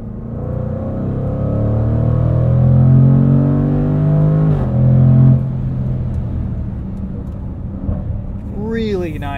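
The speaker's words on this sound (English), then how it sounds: "when you get into it, it really wakes up, and I'm sure on the outside it's pretty fierce." A 2021 Jaguar F-Pace SVR accelerating hard, its engine note climbing in a loud, rising rumble heard from inside the cabin before easing off, with someone speaking over it.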